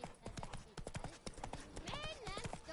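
Roach the horse galloping in The Witcher 3 game, quick rhythmic clip-clop hoofbeats close by, with a voice speaking over them and a brief horse whinny near the end.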